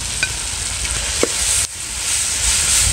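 Chopped tomato drops into onions already sautéing in a pan for a mussel dum biryani, bringing a steady close sizzle with a few soft stirring clicks and a brief dip in the frying hiss partway through.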